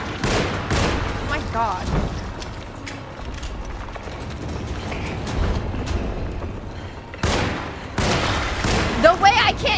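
Gunfire in the horror video game Alone in the Dark cracks out in a rapid burst of sharp shots at the start and again near the end, with a player exclaiming and talking over the game sounds.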